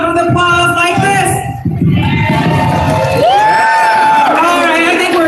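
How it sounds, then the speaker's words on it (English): A loud crowd cheers and whoops continuously, with shouting voices and a long rising yell near the end; no clear clapping stands out. "the audience is gonna go wild with applause like this"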